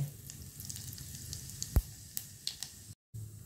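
Cumin seeds sizzling in hot oil for a rice khichdi, heard as a quiet, faint crackle with scattered small pops and one sharp click, set against low background noise.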